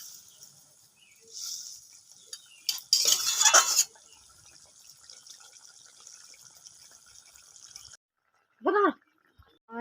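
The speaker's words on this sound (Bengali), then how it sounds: "আমি এর মধ্যে মাছগুলো দিয়ে দেবো, দিয়ে ভালো করে একটু মিশিয়ে নেব।" Chital fish pieces go into a boiling curry in a pan, with a short clattering burst of utensil and stirring noise over a steady hiss of simmering; a voice speaks briefly near the end after a moment of quiet.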